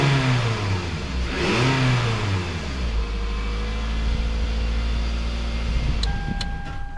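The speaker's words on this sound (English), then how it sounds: "we're gonna start up the vehicle." A 2005 Toyota RAV4 engine, just fitted with new spark plugs and ignition coil, cranks and catches, revs up briefly, then settles into a steady idle close by; a few small clicks sound near the end.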